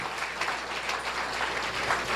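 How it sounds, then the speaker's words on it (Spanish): Church congregation applauding during a sermon, a brief, even spread of clapping from many hands over a low steady hum, moderately quiet. "Yo creo que eso merece un aplauso a nuestro Dios."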